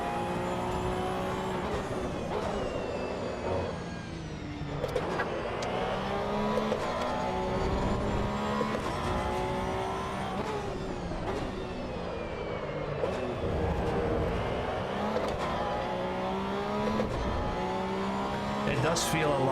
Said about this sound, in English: I think the tires are very loud.